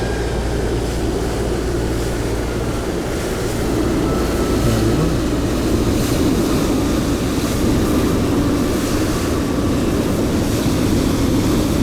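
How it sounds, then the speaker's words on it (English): Continuous roar of airliners passing along a flight path in Microsoft Flight Simulator 2020, a steady loud engine drone with broad rumbling low end that stays constant throughout, no voices. "Pretty close to the planes, but I'm obviously just going across the flight path."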